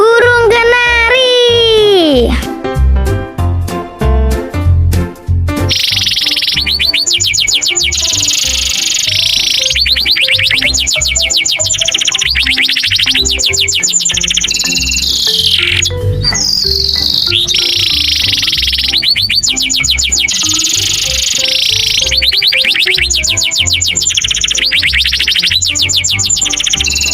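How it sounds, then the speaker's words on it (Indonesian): A yellow canary sings a long, rapid, shrill song of trills, chirps and whistled rolls, loud and close, running almost without pause over a low background bed. "Kalau yang warna kuning ini namanya burung kanari."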